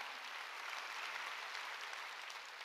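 A church congregation claps during a sermon, a faint, steady wash of many hands with no distinct individual claps.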